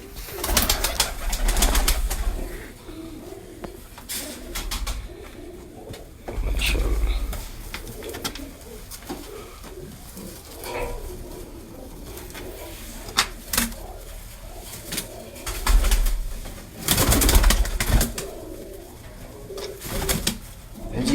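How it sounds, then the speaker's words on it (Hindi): Large Sialkoti pigeons coo in a main breeding cage, low repeated cooing close by, with bursts of handling noise and someone talking intermittently. "ये है जी मेन केज, बड़े कबूतरों का बड़े जोड़े जो लगाए हुए हैं इन्होंने।"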